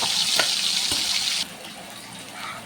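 Chicken pieces fry in hot oil in an uruli, giving a bright, steady sizzle with a few pops that drops abruptly halfway through to a softer, quieter bubbling.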